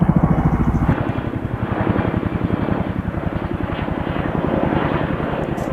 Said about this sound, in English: Noisy helicopter.